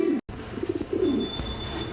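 Soft, low cooing of a large fancy Lotan pigeon in short rolling phrases, a few repeated coos close by with light background noise.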